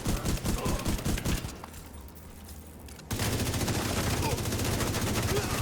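Video game gunfire rattles in rapid automatic bursts, dense and loud, breaking off briefly into a quieter gap before resuming just as fast.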